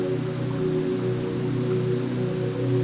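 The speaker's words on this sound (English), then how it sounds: "The rain falls, nurturing the land" Rain falling in a forest, a dense and even hiss of drops that holds steady throughout at a moderate level, with a low continuous hum beneath it and no voices.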